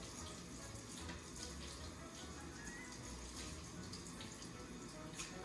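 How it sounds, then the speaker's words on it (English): Steady running tap water splashing into a sink as soap bubbles are rinsed off a plate, continuous and close, with faint clinks of dishes under the flow. "we're gonna run it under the water to get all of those bubbles off of it"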